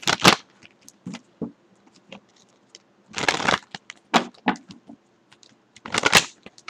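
Tarot cards shuffled by hand in short riffling bursts, loud crisp clatters separated by quiet pauses with light handling taps between.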